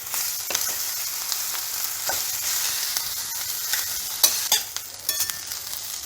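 Spiced rice being stirred in a frying pan over a low flame, with a steady sizzle and a scatter of spoon scrapes, louder near the end.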